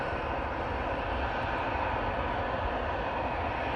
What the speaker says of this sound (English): Off to Barcelona with this Jet2.